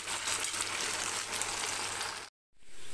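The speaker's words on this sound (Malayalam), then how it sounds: "ഓയിൽ ചൂടായി വരുമ്പോഴേക്ക് ഉരുളക്കിഴങ്ങ് കഷ്ണങ്ങൾ ഇട്ട് കൊടുക്കാം. ഞാൻ ഹൈ ഫ്ലെയിമിൽ തന്നെയാണ് വെച്ചിട്ടുള്ളത്. ഹൈ ഫ്ലെയിമിൽ നന്നായിട്ടൊന്ന് ഫ്രൈ ആക്കിയെടുക്കാം" Potato pieces fry in hot oil over a high flame, giving a loud, dense, continuous sizzle that breaks off briefly near the end and then resumes, with no voices.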